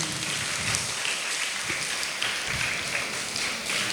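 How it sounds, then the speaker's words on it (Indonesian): An audience claps in a dense, steady burst of applause that lasts throughout, with no voices over it. "tepuk tangan dulu buat mbaknya."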